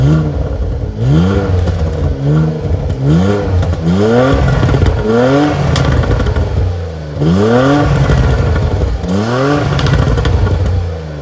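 Loud engine revving of a 2017 Porsche Macan GTS in repeated bursts, the exhaust note rising and falling with each throttle blip, deep and rumbly, no talking.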